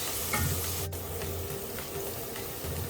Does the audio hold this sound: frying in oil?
yes